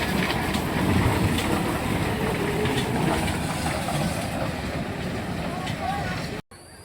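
A tourist train at Green Valley Park in Lalpur rolls along its rails with a steady rumble and rhythmic clatter, close and continuous before cutting off abruptly near the end.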